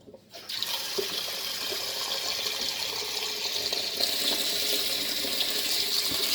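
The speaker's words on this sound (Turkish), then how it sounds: "Soğuk su tekrar açacağım." Cold water runs steadily from a kitchen tap over blanched green beans being cooled for pickling, a continuous close hiss and splash that starts after a brief quiet moment and carries on without a break.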